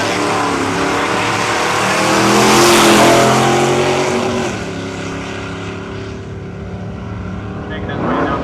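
A replica drag car with a 540 engine and automatic transmission roars down the quarter mile at Cayuga Dragway, its loud engine swelling to a peak as it passes, then fading into the distance before another engine rises near the end.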